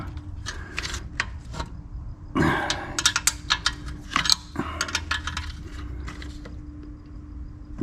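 A wrench tightens the front fender bolts on a 1975 Honda CB125S barn-find motorcycle, giving a run of sharp metallic clicks and ratcheting taps with brief clanks of handling. Close and fairly quiet, with no talk.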